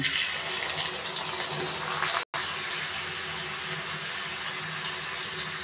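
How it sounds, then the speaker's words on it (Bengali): Leftover rinse water from a mixer grinder bowl pours into a pan, a steady close splashing gush broken by one brief cut. "মিক্সির বাটি ধুয়ে একটু জল রেখেছিলাম, সেই জলটা দিয়ে দিলাম।"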